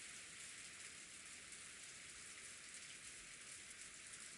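Steady rain sound effect from the visual novel Umineko, a soft, even hiss of rainfall on a surface that runs unbroken, faint and alone, with no voices.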